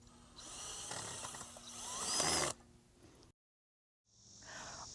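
A power drill drives screws through pilot holes into a wooden garden column set in a ground spike, whirring close and steady for a few seconds, cutting out, then starting again.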